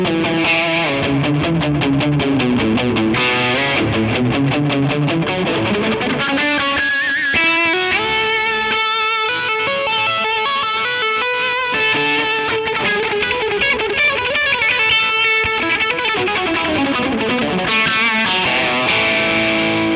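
Electric guitar solo played through an overdrive pedal with a Keeley Halo delay and Hydra reverb, bright and cutting with light bass, notes ringing on continuously at steady loudness for the whole stretch.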